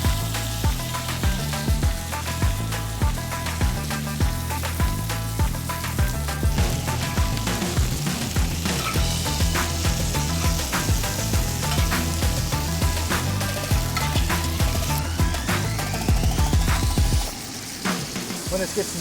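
Steak searing in a pan with butter, garlic and thyme gives a steady, close sizzle throughout, partly masked by loud rhythmic background music that drops away near the end.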